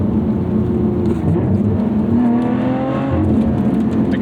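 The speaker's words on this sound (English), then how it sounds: "tried to double clutch it there, sluggish throttle response, under revved it" A 2020 Lotus Evora GT sports car engine hums and revs steadily from inside the cabin during a double-clutch downshift, a loud continuous drone with a slight pitch rise in the middle.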